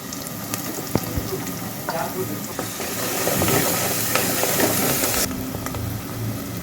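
Chopped onion with fresh ginger-garlic paste sizzles in hot oil for chicken curry, a steady crackling hiss with small pops and stirring scrapes, rising a little midway, moderately close.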